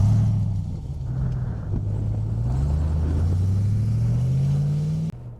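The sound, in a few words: RAM 1500 TRX pickup truck driving off-road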